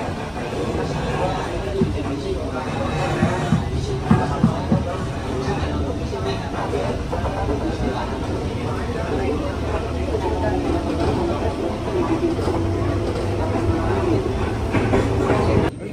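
A crowded KRL commuter train runs through Jakarta at rush hour, its steady rumble and rolling wheel noise continuous and close, with a murmur of passenger voices mixed into the din.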